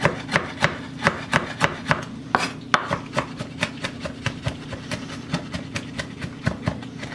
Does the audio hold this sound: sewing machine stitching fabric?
no